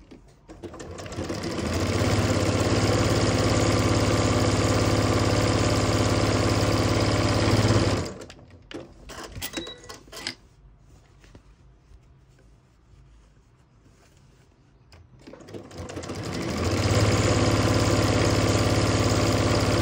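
A sewing machine stitches down a seam on a simple fabric packaging project, buzzing steadily and close. It runs for several seconds, pauses for a quiet stretch, then starts stitching again.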